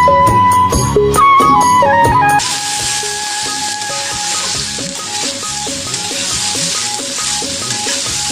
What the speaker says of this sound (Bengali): সেইগুলো সব কেটে নিয়ে একবারে ভাজতে দিয়ে দিয়েছি